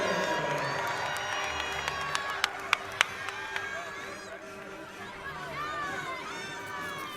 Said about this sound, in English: Her teammates are cheering her on in the background